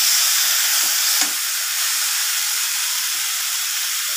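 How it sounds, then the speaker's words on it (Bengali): Spices and vegetables being stir-fried in a pan for a vegetarian kulekhara greens curry give off a loud, steady sizzle and hiss, with a few faint scrapes of stirring. "দেখুন এইভাবে কষাতে হবে মশলাগুলোকে ভালোভাবে সবজির সাথে মিশিয়ে নিয়ে।"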